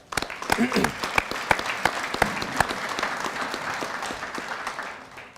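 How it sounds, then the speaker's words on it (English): An audience at a chamber of commerce annual meeting breaks into steady, sustained applause, many hands clapping together for several seconds and then gradually thinning out. "Let's all give them a big round of applause."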